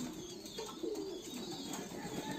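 Pigeons on a farm coo softly and continuously over a steady background hiss, with a few faint chirps mixed in, while the flock is being bathed.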